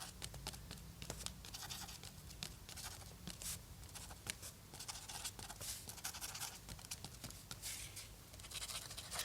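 A Posca paint marker drawing on paper: close, quiet, rapid scratchy strokes in irregular bursts, continuing steadily without speech.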